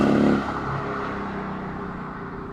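A Mercedes-Benz AMG exhaust in sport mode revs after a downshift, with a loud low blare at the start that eases into a steady, sustained drone. No one speaks.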